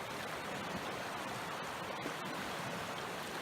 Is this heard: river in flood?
yes